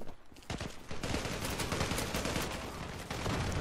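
Sustained automatic fire from a TAR-21 assault rifle in the Zula online shooter, rapid loud shots in a continuous burst that runs almost the whole time with no pause.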